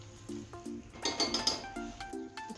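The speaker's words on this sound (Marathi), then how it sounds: "गॅस बंद करते भाजी काढून घेते" Cooked vegetable with crushed peanuts is scooped from a pan into a tiffin box: close, repeated clinks and scrapes of a metal spoon against the cookware in short bursts, with a denser clatter in the middle, no talking.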